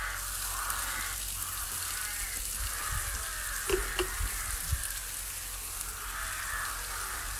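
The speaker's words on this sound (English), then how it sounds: "hopefully you might be able to hear the sizzle there" A steady, faint sizzle of a burger frying on a hot oiled barbecue grill, a continuous crackling hiss with a few soft knocks, no talking.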